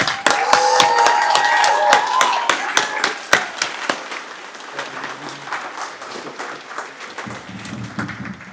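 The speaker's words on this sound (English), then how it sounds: "Please give a round of applause to the newest HM3 in the Navy." Loud, dense clapping from an audience at a Navy promotion ceremony for a newly promoted HM3, with sharp claps crowding together, then thinning and fading after a few seconds into quieter room noise.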